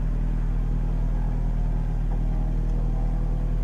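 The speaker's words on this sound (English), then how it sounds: "Here comes car number 20." Race car number 20 roars past at Oulton Park during a Britcar Trophy race, a steady, loud, low engine rumble that holds level across the short stretch.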